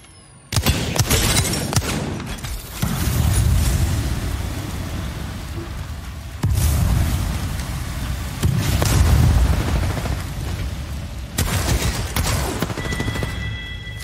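Dense, sustained bursts of rapid video game gunfire in a battle royale endgame, a loud crackling barrage that runs almost without pause across the clip, broken by a few short gaps.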